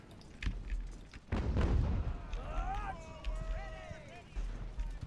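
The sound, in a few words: mortar artillery fire in Ultimate Admiral Age of Sail video game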